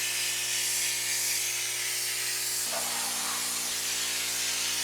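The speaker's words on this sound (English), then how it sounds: "We're gonna spray all 5 gallons." A spray gun applies LizardSkin sound-deadening coating inside a van, giving a steady, loud continuous hiss with a low mechanical hum beneath, the tone shifting slightly partway through and no talking.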